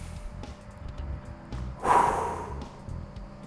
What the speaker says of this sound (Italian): da qui mi limito a respirare profondamente